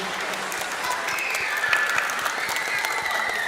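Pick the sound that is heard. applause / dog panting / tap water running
applause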